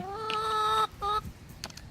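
A heat-stressed, unwell chicken gives two squawking, honking calls close by, the first long and the second short, followed by soft rustling.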